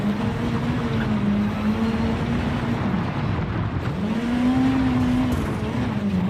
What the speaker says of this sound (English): That's a supercharger. The supercharger on there.